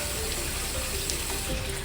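Water runs steadily from a tap, a constant close splashing hiss with no voices.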